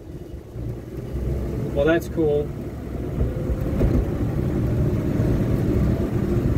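A truck engine rumbling as it makes a U-turn on a road, a steady low drone rising slightly as it pulls around, with someone speaking briefly over it.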